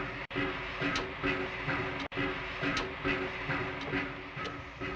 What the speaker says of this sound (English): A goods train waited in the siding to let the flying Kipper pass